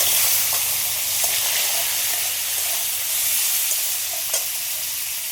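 Papaya pieces fry in hot oil with dry red chili, bay leaf and panch phoron, giving a steady loud sizzle and hiss with occasional soft clicks of stirring, no voices.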